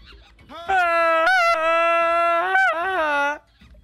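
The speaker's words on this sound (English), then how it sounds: "Oh, there's monkeys over here. I hear them now." Monkeys in the video game Disney's Tarzan: Untamed let out a single drawn-out wailing call that bends up and down in pitch for about three seconds, clear and close with no talk.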